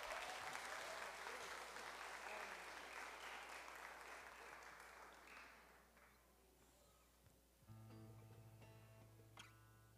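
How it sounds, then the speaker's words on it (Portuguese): A church congregation applauds its graduates at an evening service. The dense clapping fades over several seconds and gives way to soft organ or keyboard tones near the end. "Vamos aplaudir os formandos"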